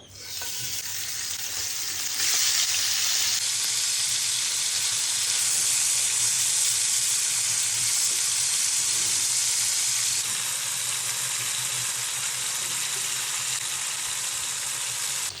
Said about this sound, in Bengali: তেলটা গরম হয়ে গেছে এখন হচ্ছে মাছগুলো দিয়ে দেবো